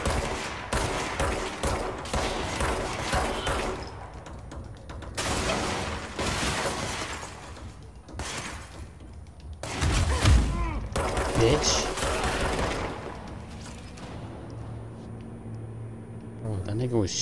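Gunfire in the video game Control comes through a wall in rapid bursts of sharp cracks and mechanical clatter between quieter gaps, with game sounds and a low hum around it.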